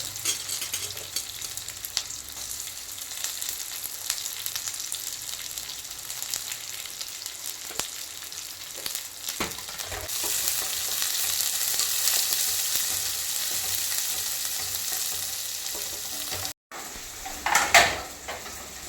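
Chopped small onions fry in a pan for wheat rava upma, with a steady close sizzle and repeated scraping stirs, ending in a brief clatter of utensil against pan.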